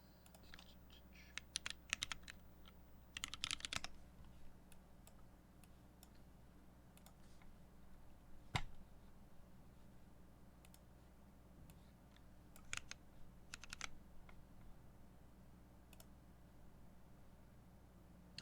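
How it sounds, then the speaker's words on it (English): Faint clicky typing on a computer keyboard during a typing test, scattered quick keystroke bursts and isolated taps over a low steady background hum, heard from some distance. "Let me open the typing test."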